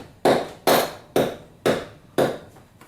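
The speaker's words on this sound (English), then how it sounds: "Give it a little tap just to break the seal." A rubber mallet strikes a Honda B-series cylinder head five times to break the gasket seal. The blows are loud, close, solid thuds, spaced evenly about half a second apart, with no talking.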